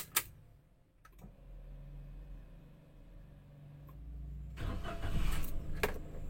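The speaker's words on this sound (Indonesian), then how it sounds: "Pertama-tama kita nyalakan mesin mobil dulu ya." Car engine cranking and catching, a few ticks and clicks first, then a low rumble that builds and settles into a steady run near the microphone.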